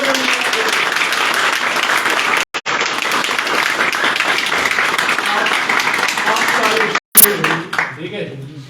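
An audience at a professional online training seminar in Pakistan applauds, a dense, loud burst of clapping that runs for several seconds, briefly cut out twice, before fading under a voice.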